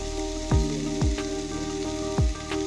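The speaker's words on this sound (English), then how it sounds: "spring roll sauce is simply vegetable stir fry in oil and spices" Vegetable sauce with garlic powder stir-frying in oil and spices gives a steady, close sizzle, broken by several heavier scraping strokes at regular intervals under a constant low hum.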